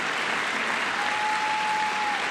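Applause in Congress during a presidential address, a thick, steady wash of clapping from a large chamber crowd, sustained and even without pauses.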